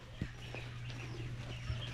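A hen clucks softly a few times, low and nearby, over a steady background hum, with short sharp knocks between the clucks.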